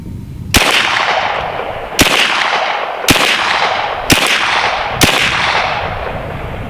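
Five sharp shots from a B&W Bin Tac S45 semi-auto PCP air rifle, spaced about one second apart, each a crisp crack with a short hissing tail, close and loud with no talking.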